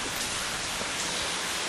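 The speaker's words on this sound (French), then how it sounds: "Avec toute cette pluie-là?" Heavy rain falling at night, a dense, steady hiss of downpour with no break, loud and even throughout.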